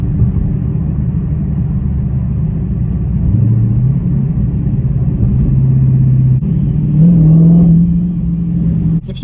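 A 2017 Dodge Challenger Hellcat muscle car drives and accelerates, its engine rumbling steadily close up, with a rising tone as it pulls harder, holding strong throughout.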